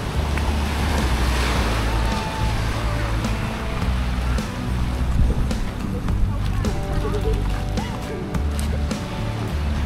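Waves wash onto Manila Bay's Dolomite Beach at high tide, a continuous rushing surf mixed with wind noise, with people talking and children's voices heard nearby.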